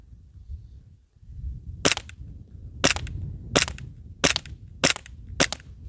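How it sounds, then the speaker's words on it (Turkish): Six sharp pistol shots fired one after another at steady intervals with a red dot sight mounted on the handgun, loud and close, over a low rumbling background. "Evet Red Dot'la atış yapmayı deniyorum tekrar."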